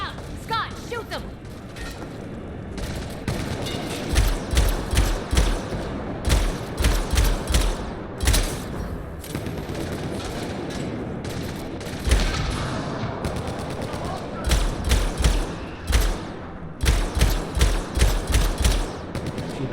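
Gunfire in Mass Effect: Andromeda, a video game firefight: repeated bursts of rapid shots and heavy thuds recurring in clusters across the span, loud and close, with talking mixed in.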